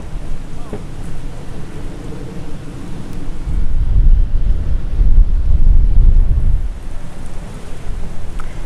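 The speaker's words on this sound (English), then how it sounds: "as you can see, it's quite windy." Strong wind buffets the microphone over crashing surf on a Punta Cana beach, a continuous roar that swells louder in the middle and then eases, with no speech.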